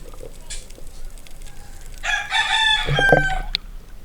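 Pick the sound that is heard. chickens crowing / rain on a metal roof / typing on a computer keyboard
chickens crowing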